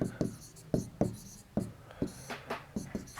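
Pen strokes on paper while writing out an inequality during a Class 12 maths lesson on linear programming, a run of quick, close, separate scratches at an uneven rhythm.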